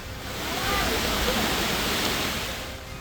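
Floodwaters of rivers swollen by five and a half inches of heavy rain in Netrang, Bharuch, Gujarat rush with a steady, broad roar that swells and then eases slightly over a few seconds.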